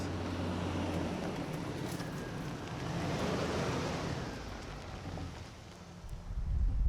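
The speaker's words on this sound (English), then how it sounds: "The winds were pretty constant through the day today, around 15 miles an hour or so." Steady wind of around 15 miles an hour roars across the microphone in the Entiat Mountains, with rumbling gusts that swell and ease, louder toward the end; no voices.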